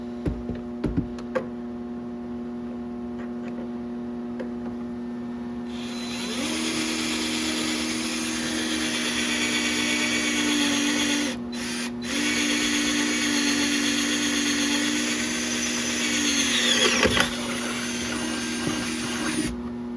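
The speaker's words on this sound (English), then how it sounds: "That was the 17/32 drill bit." A power drill with a 17/32 bit whirs steadily through a hole on a 2003 Yamaha Viper 700 snowmobile for about ten seconds, pitch dipping briefly midway, with electrical hum underneath before and after.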